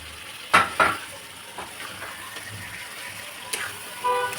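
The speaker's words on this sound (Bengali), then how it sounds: "এবার ভেজে রাখা আলুগুলো দিয়ে দিলাম।" Pre-fried potatoes tipped into a pan of vegetarian banana kofta curry and stirred, with a couple of sharp clattering knocks near the start, light sizzling underneath and another utensil scrape toward the end.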